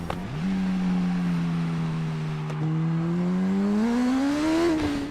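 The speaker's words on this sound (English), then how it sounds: "you can hear the engine, it's flat out" Motorcycle engine flat out in TT Isle of Man: Ride on the Edge 2, a loud, sustained high-revving whine that holds steady and then climbs before a quick drop, with no voices.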